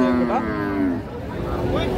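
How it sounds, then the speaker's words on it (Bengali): A Friesian dairy cow at a livestock market gives a loud, close, drawn-out moo that falls in pitch over about a second, then trails off into market background noise. "এখানে সুন্দর একটা গাভী দেখতেছি, এদের ফ্রিজিয়ান জাতের গাভী।"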